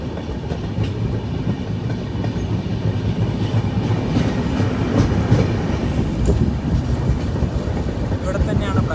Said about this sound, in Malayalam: ട്രെയിനിപ്പോൾ ഓങ്കോൾ റെയിൽവേ സ്റ്റേഷനിലേക്ക് ഇത് എത്തിക്കൊണ്ടിരിക്കുകയാണ്.